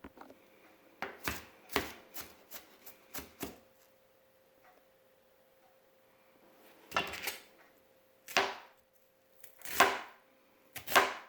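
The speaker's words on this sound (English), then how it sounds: "So I'd like to chop my onion because I don't want to get it too watery." A knife chops an onion on a cutting board in sharp, quick clusters of thuds, pausing in between, close and fairly quiet, with no talking.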